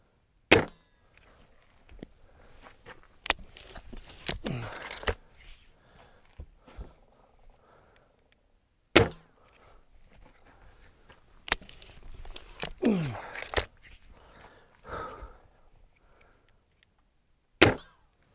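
Quiet shots from a .177 air rifle firing heavy 10.6-grain pellets below the speed of sound, each a sharp isolated pop with no crack, several spaced seconds apart amid low background rustling.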